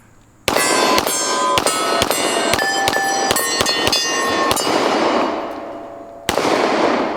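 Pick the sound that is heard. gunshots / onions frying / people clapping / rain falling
gunshots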